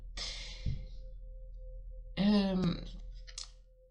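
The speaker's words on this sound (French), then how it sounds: "je tourne les cartes" Tarot cards are turned over at close range: a soft papery slide and a light click, then a brief murmur from a voice with a faint steady hum underneath.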